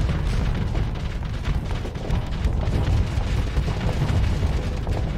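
Cannon fire and explosions in the space combat game Starsector, a dense, continuous barrage of low booms and bursts at moderate level, rolling on without pause.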